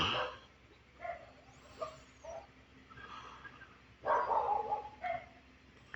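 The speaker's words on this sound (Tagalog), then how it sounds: "sobrang lalakas ng tahol" Stray dogs bark in scattered bursts at a distance around 1 AM, some yips and a louder cluster near the end, against a quiet background.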